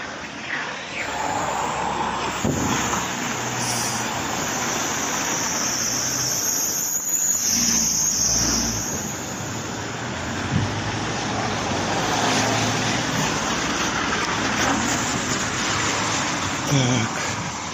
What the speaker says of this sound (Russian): Вот такая колонна образовалась машин.